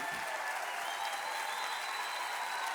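An audience applauds at the finish of a community race, a dense, continuous wash of clapping heard from a distance, steady and moderately faint.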